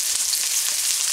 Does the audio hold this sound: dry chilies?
yes